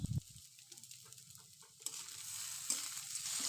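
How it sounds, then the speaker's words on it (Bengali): Egg chow mein seasoned with Maggi masala frying in a pan, a low, steady sizzle with a few soft stirring scrapes, close and fairly quiet. "বেশ খানিকক্ষণ কিন্তু আমাদের এটাকে ভেজে নিতে হবে।"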